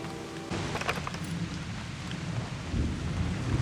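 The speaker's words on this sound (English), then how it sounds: "This can't be the first time she's heard rain." Steady rain pours down with a deep rumble of thunder underneath in the video game Season: A Letter To The Future, starting abruptly after a short moment and continuing evenly.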